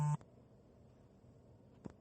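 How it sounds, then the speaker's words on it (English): A phone notification for a friend request gives two short electronic beeps, one at the start and another near the end, heard faintly over a low background hiss. "I forgot to turn off my notifications."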